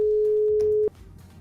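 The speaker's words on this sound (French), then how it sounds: "pourquoi pas appeler notre cher collègue expert Valentin qui pourra nous répondre à cette question" A telephone call tone holds a single steady electronic beep for just under a second, then cuts off into faint background noise.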